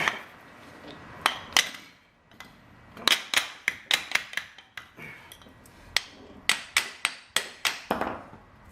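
Sharp metallic hammer blows on a chisel work at freeing the intermediate shaft of an EK Honda Civic hatchback, close, loud strikes that come in irregular clusters, roughly eighteen in all.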